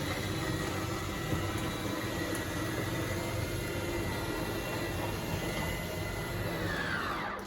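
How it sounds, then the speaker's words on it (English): Slide-out motors on a 2024 Forest River Sunseeker 2850SLEF RV run with a steady mechanical whine and hum. A rising tone sweeps up near the end before the sound cuts out abruptly. "You know that slide out's fully extended when you hear the motors wind up and the motors cut out."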